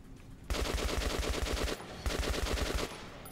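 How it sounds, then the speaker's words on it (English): Rapid automatic gunfire in the video game Metro: Last Light Redux: two loud, sustained bursts of fast repeating shots separated by a brief pause, close and alone with no talk. "I shot his fucking helmet right off"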